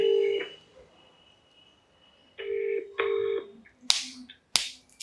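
A phone is being dialed for a call: a few short electronic beep tones in separate bursts, followed by two sharp clicks, all fairly close with quiet gaps between.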